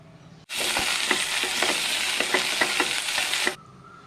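Okra hits hot coconut oil in a pan and bursts into a loud, sudden sizzle, with repeated scraping strokes as it is stirred for sambar, before the frying drops back to a low hiss.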